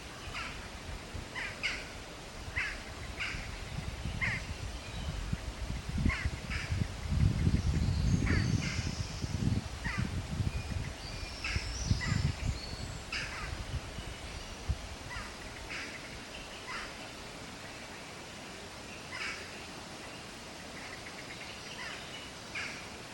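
A crow calls repeatedly in short, evenly spaced caws against an outdoor background hum that swells in the low end midway through; the calls sound moderately near and carry on alone without talk.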